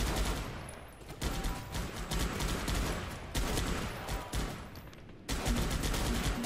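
Concentrated focus fire in the video game Guns Up!, a dense, sustained barrage of overlapping gunshots and rattling automatic fire with brief dips, loud and continuous.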